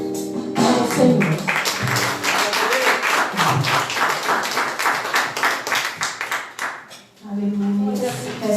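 A church congregation claps hands in steady rhythm during worship, loud and continuous alongside singing and voices, fading near the end before voices return.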